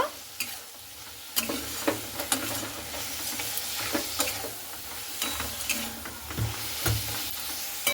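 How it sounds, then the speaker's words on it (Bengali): Soybean chunks are stirred in a spice paste as they fry, giving a steady close sizzle broken by frequent scraping strokes of the spoon against the pan; no one speaks. "তো এরপরে মশলাটা দিয়ে খুব ভালো করে সয়াবিনটা আমি দেখুন এইভাবে নাড়াচাড়া করে নেব"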